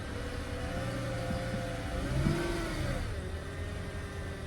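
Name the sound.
Lexus LS430 car engine running with grinding noises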